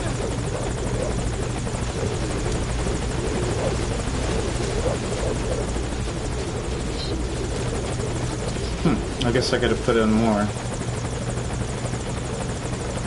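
A helicopter in the video game Metal Gear Solid V drones steadily and loudly throughout, its low rotor hum constant beneath a man's intermittent speech and brief game sound effects.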